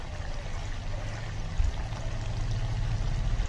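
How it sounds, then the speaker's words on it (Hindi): Ghee is poured into a nearly cooked mixed vegetable curry, making a continuous rushing, liquid pouring sound that stays fairly steady throughout, with no talking. "2 चम्मच घी डाल देंगे इसके अंदर"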